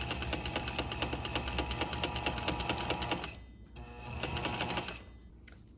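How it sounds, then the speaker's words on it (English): Sewing machine running a zigzag stitch on stretchy knit fabric, a fast steady mechanical chatter that stops briefly and resumes, then halts again near the end. "The zigzag stitch is going to be the preferred stitch over a straight stitch."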